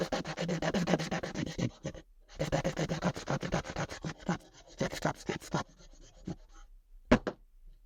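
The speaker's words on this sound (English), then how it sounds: "I think we need to stick that on the old sander" Coarse, continuous scratching as an orbital sander works over a piece of scrap wood with a glue-filled knot, close and steady with short pauses and shifts in pressure.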